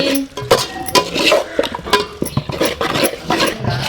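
Spoon scraping and clinking against a pot while boiled lemon chutney is stirred, a run of close, irregular metallic taps and scrapes throughout.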